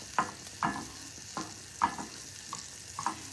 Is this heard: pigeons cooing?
no